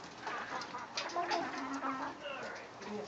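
A big old rooster among a flock of backyard chickens at feeding time gives scattered clucks and short calls over a busy, noisy farmyard background, with no clear crow standing out.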